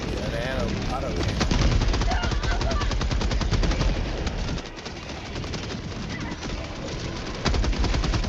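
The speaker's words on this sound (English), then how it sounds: "Auto cannon." Autocannon fire in a video game: a loud, continuous stream of rapid heavy shots with a brief pause partway through before the firing resumes.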